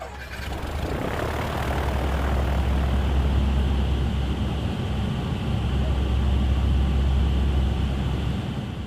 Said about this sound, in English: there's this hum of the plane